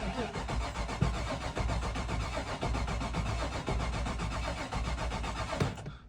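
A used car with about 254,000 miles on it is cranked over, its starter churning steadily for several seconds with an uneven, galloping rhythm before it falls quiet near the end.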